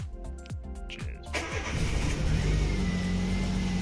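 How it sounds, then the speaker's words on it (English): A Peugeot 106 engine starts with rhythmic starter-motor cranking for about a second, then catches and settles into a loud, steady idle that carries on alone to the end. "Here we go, fuel pump on, engine start."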